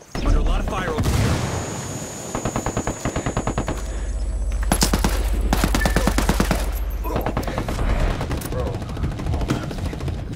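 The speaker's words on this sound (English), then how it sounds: "Here, under a lot of fire over here." Rapid automatic gunfire from the video game Tom Clancy's Ghost Recon Ghost War rattles in long, loud bursts through most of the stretch, with a player's voice speaking over the shooting.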